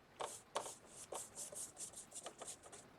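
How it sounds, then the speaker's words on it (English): A tool is rubbed firmly over an MDF piece to burnish it, producing soft, close scratchy strokes in an uneven rhythm. The sound is quiet, with a few slightly louder scrapes standing out. "I usually burnish these on here pretty well"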